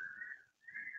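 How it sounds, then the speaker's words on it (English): A thin, high whistle of wind around a house during 90 mile per hour gusts, two sustained tones with a brief dip between them, faint and steady. "Yeah, that's the wind."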